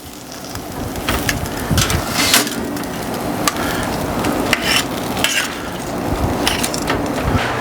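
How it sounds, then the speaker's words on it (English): Beef steaks sizzle in melted butter on a very hot barbecue grill, a steady close crackling hiss with scattered sharper pops and spits throughout, no voices. "So I'm gonna roll these steaks in the butter down here as well."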